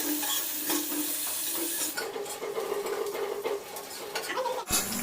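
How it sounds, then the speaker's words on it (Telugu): Green chillies and onions frying in spices in a pan, a continuous close sizzle with stirring scrapes and light clinks of a utensil against the pan. "మిర్చి కూడా వేసేసుకుంటున్నాను."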